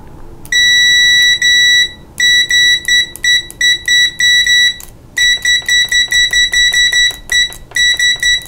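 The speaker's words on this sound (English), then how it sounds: "The buzzer's nice and loud." A Sinometer VC97 multimeter's continuity buzzer gives loud, shrill beeps, first in long tones and then in rapid bursts of short, stuttering beeps as the probes make and break contact.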